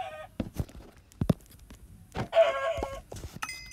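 Chickens clucking in a Minecraft game, short repeated clucks and squawks mixed with scattered game clicks and footsteps, fairly close and clear.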